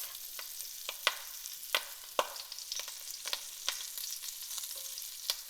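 Brussels sprouts sear face down in a hot pan as they are arranged one by one, giving a quiet steady sizzle broken by sharp clicks and taps of the sprouts being set in place, with no talking.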